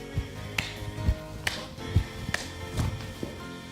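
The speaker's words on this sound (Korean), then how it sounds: "먼저 박수를 치시는데 같이 업으로 치실 거예요." Hand claps in a worship dance lesson, several sharp claps landing at a steady, roughly half-second beat over a faint music bed, close and moderately loud.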